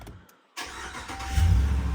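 A RAM Rebel pickup truck engine starting: a brief quiet, then a sudden crank catching at mid-clip and settling into a loud, steady idle with a rising low rumble.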